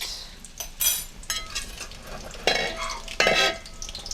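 Sliced onions hit hot oil in a cast iron pot while cooking Ghanaian jollof rice, giving a close, steady sizzle broken by several loud scraping bursts of stirring.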